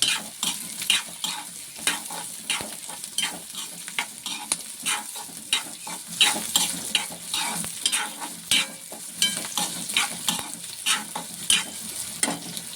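Onions sautéing in a pan with rock salt for a dry ginger kuzhambu: a steady sizzle is broken by rapid scraping stirs of a spoon against the pan, close and busy throughout, with no talking.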